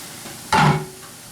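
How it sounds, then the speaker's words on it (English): Polenta cakes are flipped in a hot pan, giving one brief close scrape and a burst of sizzle lasting about a third of a second, then a quieter frying hiss. "We're just going to turn our polenta cakes."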